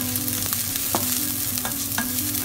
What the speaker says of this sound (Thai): ผัดให้หอมใหญ่สุกใสแบบนี้นะคะ